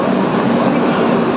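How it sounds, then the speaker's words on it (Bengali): A Howrah–SMVT Bengaluru train rumbles into the station, a loud, continuous rolling roar filling the platform. "এখন ফাইনালি ট্রেনটা দিকে আসছে। এই ট্রেনে করে আমরা আজকে যাবো। এই হচ্ছে হাওড়া এসএমটি বেঙ্গালুরু।"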